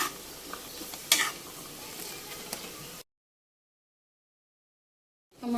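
Spicy garlic mushrooms fry in a pan with chili flakes while being stirred, giving about three seconds of steady sizzle with a sharp scrape near the start, then a break of silence before the sizzle returns briefly at the end.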